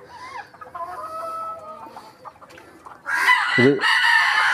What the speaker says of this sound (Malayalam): ഞാൻ കളക്ട് ചെയ്ത് വെച്ച കുറച്ച് കോഴികളാണ്